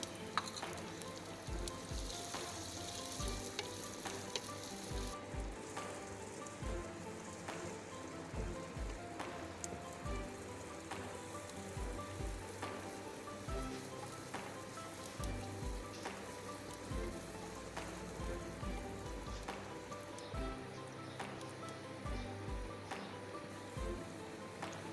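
Chopped onions frying in oil in a home cooking pan, browning after cumin seeds: a constant close sizzle with periodic soft thuds and scrapes from stirring, and no talk.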